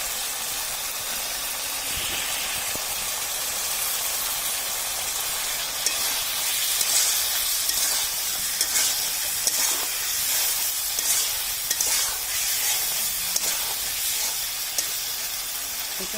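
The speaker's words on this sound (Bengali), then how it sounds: "এখন আমরা মাছগুলো ছেড়ে দিব।" Small mola fish frying in a pan of cooked-down spices give a steady, close hissing sizzle throughout, with faint occasional clicks of stirring and no talk.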